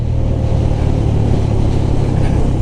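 Honda CB350RS motorcycle running with an aftermarket-style exhaust note, a steady loud low rumbling idle throbbing evenly and close by, with no voices.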